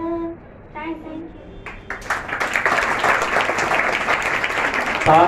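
An audience at a Basant Panchami gathering bursts into applause after a voice speaks briefly, building into a loud, dense stretch of many hands clapping that keeps going.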